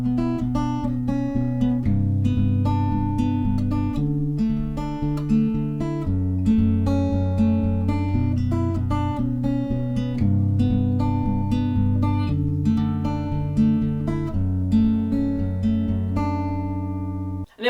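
Fingerpicked acoustic guitar playing the picking pattern and chord progression of a song, steady plucked arpeggios cycling through chord changes, close and clear with no voices.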